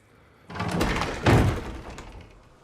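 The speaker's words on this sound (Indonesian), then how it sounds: "Setelah Tess membukakan pintu, mereka pun melihat keluar" A door swings open in a tense post-apocalyptic zombie scene from The Last of Us, giving a heavy creaking sweep and a solid thunk midway, fairly loud and near, with no voices.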